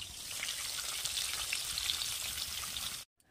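Nigella seeds and green chilies tempering in hot oil left from frying fish, a dense crackling sizzle with fine spattering pops, steady and close for about three seconds before cutting off abruptly.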